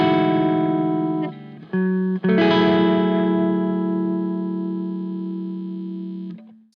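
An electric guitar plays through an engaged overdrive pedal with the tone pushed brighter, giving sustained, thick distorted chords that shift a couple of times, then ring out loud and close, slowly decaying before cutting off.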